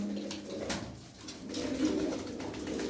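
Bango pigeons, a white pair of male and female, coo in soft low repeated calls, fairly close and steady throughout, with no talk over them.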